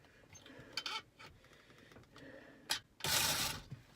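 A screwdriver pries at a stuck second-row middle seat belt latch in a Ford Flex, giving scattered close plastic clicks and scrapes that end in a loud rattling snap as the mechanism releases.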